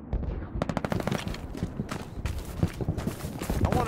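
Rapid gunfire in the Hell Let Loose video game set in Hurtgen Forest, with dense bursts of cracking shots and bangs, near and loud, continuing throughout.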